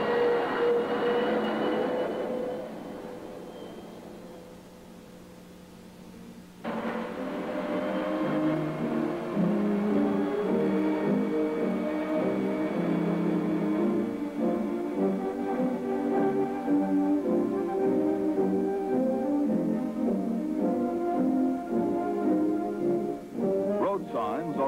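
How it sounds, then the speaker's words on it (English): A Dodge air-cooled turbine Dart car starts with a rising whine, then settles into a steady whooshing turbine drone as it drives off, heard alone at moderate loudness. "Our air-cooled turbo dart kicks right off and pulls out to lead the way to the coast."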